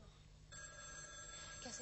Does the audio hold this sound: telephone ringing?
yes